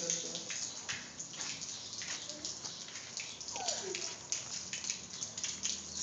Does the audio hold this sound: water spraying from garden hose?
yes